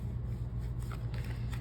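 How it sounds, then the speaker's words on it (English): A clarifier tarot deck being shuffled gives a soft, steady riffling and flicking of cards under a continuous low hum, faint and close. "I'm shuffling my clarifier deck."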